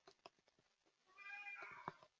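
A pet cat lets out one clear, fairly close meow after a few soft taps and rustles in a quiet room.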